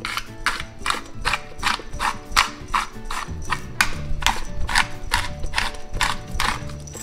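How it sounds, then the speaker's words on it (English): Freshly cracked black pepper being ground in a mill over a simmering vodka sauce, a steady series of about a dozen sharp, evenly spaced ratcheting crunches, close and clear with no talking. "And then what I'm gonna do is add some freshly cracked pepper."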